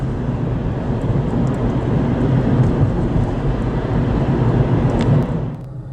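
A CSX train rumbles at a distance as a steady low drone with faint higher tones on top, easing off at the end.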